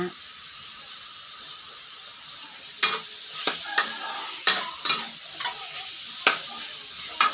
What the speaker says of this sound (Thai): ผัดหมูคะนาผัดหมูใส่คะนา